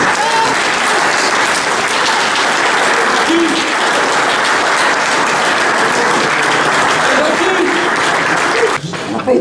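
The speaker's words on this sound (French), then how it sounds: "Donc je vais donner un applaudissement pour lui aussi" Sustained, dense applause from a crowd gathered at a club barbecue, steady and loud for the whole stretch with a brief dip near the end.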